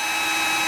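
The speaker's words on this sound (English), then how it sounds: "We can just go ahead and get that drill going." A power drill whirs steadily at high speed while boring mounting holes for an Alpha Rack on a Ford Raptor pickup, one continuous close, loud buzz with no voices.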